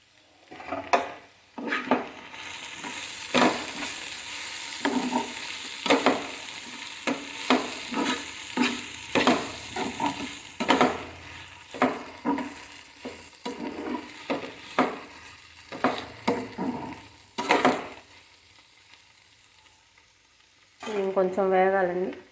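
Ladyfinger and green chilli curry frying in a pan, with repeated scrapes and clinks of a spoon stirring against the pan over a soft sizzle, loud and close, pausing near the end before a final burst of stirring.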